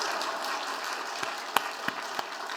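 Scattered, fairly quiet clapping comes from a church congregation during a testimony, a soft continuous patter broken by a few sharper, isolated claps near the end.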